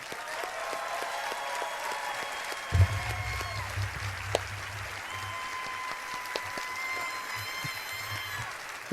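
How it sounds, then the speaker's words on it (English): Sustained applause from a large crowd at the Bethesda E3 2016 press conference, steady clapping filling the room with a few louder bursts and a low rumble partway through. "People clapping."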